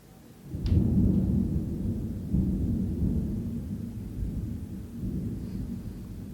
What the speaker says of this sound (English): That's the storm, guys.